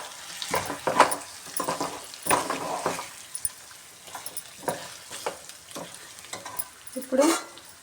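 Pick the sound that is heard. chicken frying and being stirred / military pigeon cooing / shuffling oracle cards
chicken frying and being stirred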